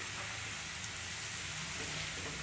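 Cumin seeds sizzle in hot oil while being stirred, after lightly browned ingredients went in, giving a steady, dense hiss with faint scraping, close and uninterrupted.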